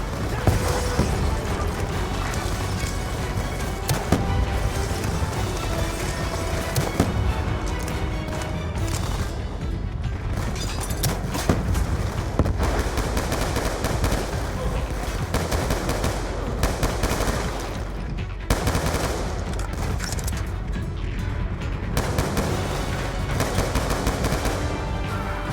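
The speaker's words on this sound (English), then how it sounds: "Good thing I got this grenade launcher." Dense, continuous gunfire and launcher blasts in the Black Ops 2 video game, with rapid automatic bursts layered over each other at a loud, unbroken level throughout.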